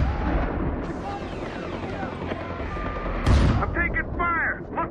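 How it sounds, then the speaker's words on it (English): Gunfire and explosive booms in Far Cry 4 on Xbox 360, sustained loud shooting with a heavier blast partway through, game voices and chatter mixed in. "I'm taking fire!"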